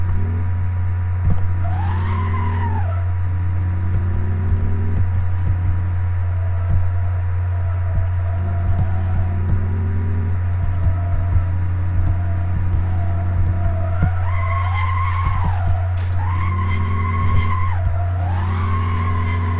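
A muscle car's tires squeal in repeated rising and falling screeches under emergency braking, over a steady loud engine drone, close by and continuous, with no voices.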